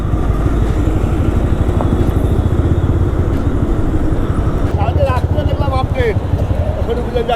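Several motorcycles idle together at a group bike ride meetup by the Dankuni toll plaza, a steady, loud, low rumbling chug running throughout, with faint voices and brief higher tones late on.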